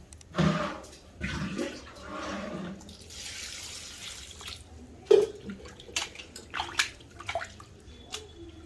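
Muddy coriander and gongura leaves are rinsed in water, giving close sloshing and swishing with a few drips and splashes in short, irregular bursts and no speech.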